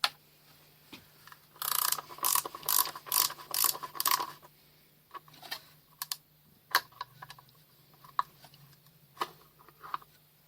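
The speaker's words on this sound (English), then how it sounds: "Let's remove the retaining screws and see what she looks like." Retaining screws being worked out of a lathe headstock bearing block with a ratcheting tool, a close burst of rapid rhythmic clicks followed by scattered metallic ticks and taps.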